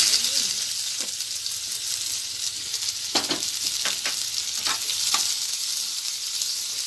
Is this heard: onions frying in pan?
yes